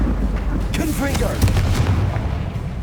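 A Confringo fire spell blasts in Hogwarts Legacy, a loud, dense burst of fiery booms and crackle sustained over the game's continuous battle noise, with voices mixed in.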